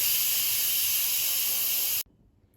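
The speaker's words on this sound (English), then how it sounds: "so let's quick release the steam." Instant Pot doing a quick steam release while cooking green beans, a loud steady hiss of escaping steam that runs for about two seconds and then cuts off abruptly into near silence.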